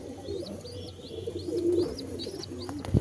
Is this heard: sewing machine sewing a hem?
no